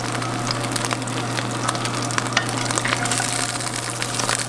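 Butter sizzles steadily in a hot frying pan over medium heat, a dense continuous crackle with scattered pops and a low hum underneath, close and even throughout.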